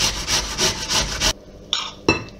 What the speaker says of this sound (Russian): Натираем на крупной терке, либо можно мелко порезать.